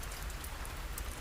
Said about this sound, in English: Rain falls harder now, slicking the cobbles, erasing footprints